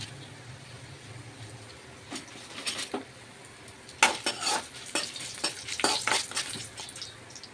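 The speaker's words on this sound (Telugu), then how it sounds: "ఇప్పుడు ఇవి వేంపాలి ఇవి బాగా వేగితేనే టమాటా చట్నీ టేస్ట్ బాగుంటుంది" Coriander seeds, cumin and dried chillies fry in oil for tomato chutney, a soft sizzle punctuated by scraping and clinking of a spoon stirring against the pan in uneven bursts, close and moderately loud, no talk.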